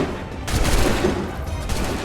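A volley of musket fire in the Assassin's Creed 3 video game, a dense burst of overlapping gunshots crashing out together and ringing on, loud and close, with no talk over it.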